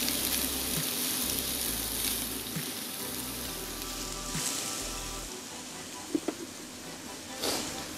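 Onions sizzle and hiss steadily in a hot pan, a continuous frying crackle with a few light clinks of stirring.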